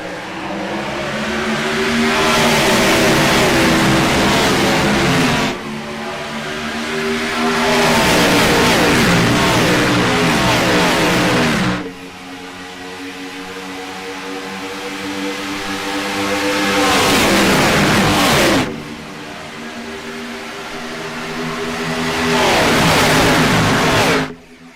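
Race cars roar around Daytona in a stock-car racing video game, engines surging and fading in repeated loud passes, with a sustained pack drone between them and no one talking.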